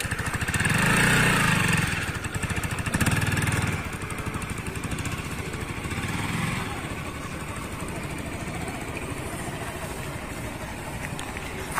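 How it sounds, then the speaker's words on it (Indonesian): A Honda CBR 150R motorcycle engine runs at low speed on a public road, louder and rumbling in the first few seconds and then settling into a steady, quieter hum with wind noise. "Untuk bobot lumayan berat nih motor CBR ini"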